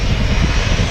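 A jet airliner's engines roar steadily at Manchester Airport, a loud, continuous broadband rush with no break or pause.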